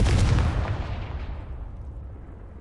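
A Confringo fire spell explodes in Hogwarts Legacy, a single loud, close boom with a deep rumbling blast that decays over about two seconds.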